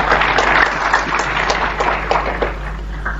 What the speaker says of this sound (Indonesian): sekarang baru tepuk tangan untuk saudara sendiri.